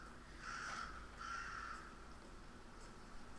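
Crows cawing in the video game The Last Door, two drawn-out harsh caws in succession followed by a faint third, set against a quiet, still background.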